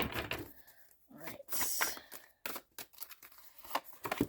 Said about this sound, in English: I feel like I'm needing to shuffle these again.